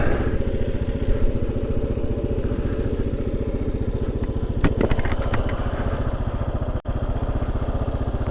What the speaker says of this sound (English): Jet boats.